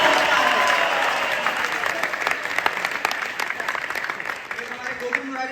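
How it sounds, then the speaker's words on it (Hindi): Applause from an audience at a Bhagavad Gita talk, a steady, crowded patter of clapping that starts full and gradually fades, with voices heard faintly under it. "तालियां बजाइए।"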